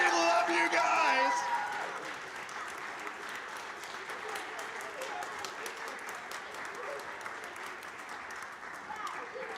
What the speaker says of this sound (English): I want to give a big round of applause for the class of 2027